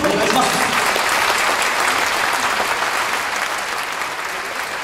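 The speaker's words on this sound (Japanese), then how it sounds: "もう一度大きな拍手をお願いします" A concert audience at a Yamaguchi Prefectural Police band autumn concert applauds loudly and steadily, a dense sustained clapping that tapers slightly toward the end, with no talk over it.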